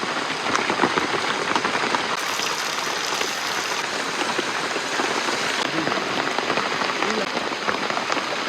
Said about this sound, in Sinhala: දැන් නම් ඉන්නම් බැරි තරම් වහිනවා.